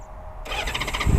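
Up close and loud, a six-cylinder touring motorcycle engine is started with the choke on: after a brief quiet moment the starter kicks in with a sudden whirring crank that builds into a rising engine rumble.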